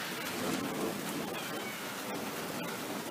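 Steady rain pours during an evening storm in the Missouri Ozarks, a dense continuous hiss with a few sharper drop impacts, with no talking.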